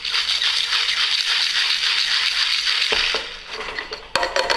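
Ice rattles and crunches in a martini shaker while a vodka cocktail is mixed. The shaking is loud and continuous for about three seconds, then eases off and ends with a sharp tap.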